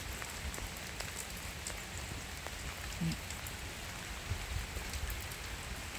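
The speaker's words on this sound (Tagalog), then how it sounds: "Maulan na araw." Heavy rain pours steadily on a rainy morning in the Netherlands, a dense continuous hiss of drops drumming on surfaces and a window, with a few faint knocks and no talking.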